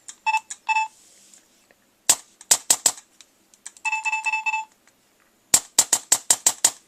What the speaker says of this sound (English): I know the gun's cycling right